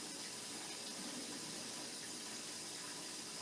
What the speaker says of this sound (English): You're gonna add your water.